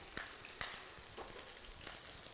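Water hitting hot oil in a frying pan gives a steady sizzle broken by a few sharp pops, close and moderately loud, with no talking.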